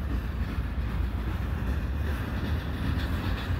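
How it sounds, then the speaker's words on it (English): A Quebec City-bound Siemens passenger train departs Montreal at night on a December evening, giving a continuous low rolling rumble with faint wheel clatter, fairly distant and steady, without any talking. "we just had a Quebec City bound Siemens train leave."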